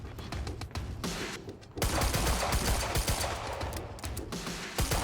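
Gunfire in the Quantum Break video game: dense, sustained bursts of rapid shots with a short lull, loud and close, with no talking.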